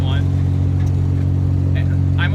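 A red Toyota 4Runner with the exhaust missing from the collector back idles and putters along a gravel road at very low speed, giving a steady, loud, rumbling low drone with no voices.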